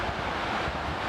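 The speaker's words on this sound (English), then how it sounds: "Right now we are at the Gullfoss waterfall" Gullfoss waterfall in Iceland roars as a continuous, dense rushing wash of falling water, steady and loud, mixed with gusty wind buffeting the microphone.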